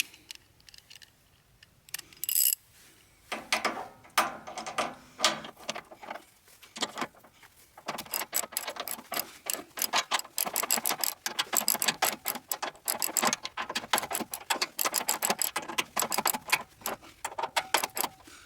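Bolts on a Wood-Mizer sawmill's extended deck rail are tightened down with a ratchet, giving bursts of rapid metallic clicking, close up, between short quiet pauses.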